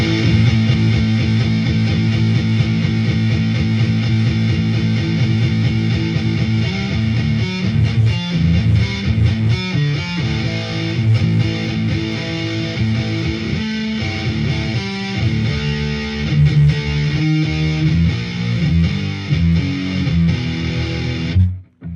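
Heavily distorted, high-gain Gibson Les Paul electric guitar chugging riffs with dense, saturated tone, played loud and continuous with no voices.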